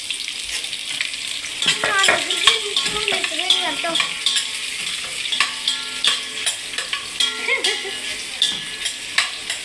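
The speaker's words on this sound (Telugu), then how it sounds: "ఉల్లిపాయ పచ్చిమిర్చి వేసేసుకుంటున్నాను." Onions and green chilies frying with spices in a pan while making curry leaf chicken pulao, with a close sizzle and repeated scraping stirs and clinks, loud and busy throughout.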